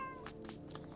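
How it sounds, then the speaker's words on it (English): A cat in the video game Her Apartment gives a brief, sharp meow right after being stepped on, close and alone over a quiet room background. "I just stepped on the cat."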